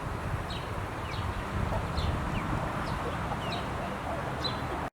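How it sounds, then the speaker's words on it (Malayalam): Newly bought chickens walk around a grassy yard, giving short, repeated chirpy clucks at a moderate distance over a steady, rustling outdoor background. "ഇതാ നമ്മുടെ പുതിയ കോഴികൾ ഇതാ അവിടെ നടക്കണുണ്ട്"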